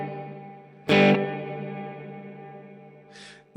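Guitar chords played through the reverb of a Mvave Mini Universe pedal set to a long decay, a bright strum ringing out into a lush tail that slowly fades, followed by further short strums.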